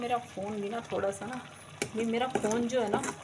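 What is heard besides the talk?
tempering (tadka) frying for black chickpeas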